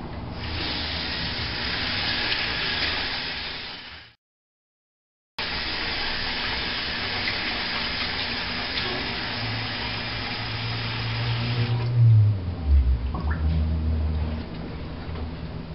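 Bathroom tap running continuously while someone brushes their teeth, a steady hiss of water that cuts out briefly, then resumes with some low bumps and knocks near the end.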